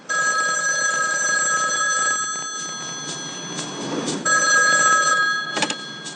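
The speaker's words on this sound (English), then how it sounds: "The kid randomly receives a call from a payphone." A payphone rings in a film scene, a loud electronic trill repeating in two bursts with a short gap, close and prominent over faint background noise.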